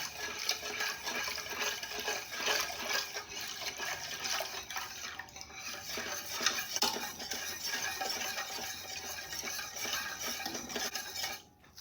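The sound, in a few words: whisking evaporated milk into pie filling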